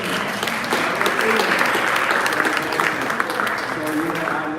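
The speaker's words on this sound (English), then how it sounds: "I want y'all to give me a hand clap." A crowd at a city hall rally claps together in steady, dense applause that holds for several seconds, with voices mixed in underneath.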